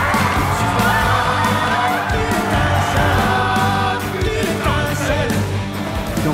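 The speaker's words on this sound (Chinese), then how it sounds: "趁着行刑台上士兵都在为杰霍姆喝彩的空档" Soldiers cheering at an execution ground in a fantasy film scene, a dense, loud crowd roar with yells and whoops running continuously, mixed with music.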